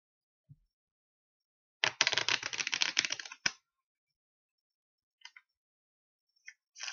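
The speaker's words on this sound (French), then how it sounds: "j'ai un jeu de cartes normal, hein. Bon là il n'est pas mélangé, mais je vais le mélanger." A normal deck of playing cards is riffled in one dense crackling burst of about a second and a half, followed by a few faint, scattered card clicks in an otherwise quiet room.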